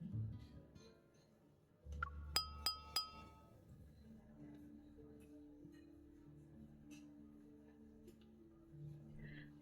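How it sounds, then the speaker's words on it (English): Glasses clink at a banquet in the game LADS, a few bright, crisp chimes in quick succession over a soft musical backdrop, followed by quieter sustained tones. "the crisp sound of clinking glasses captures everyone's attention"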